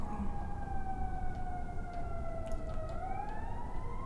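A wailing emergency vehicle siren on a Chicago street sweeps slowly down and then back up in pitch at moderate distance, over a steady low rumble of city traffic.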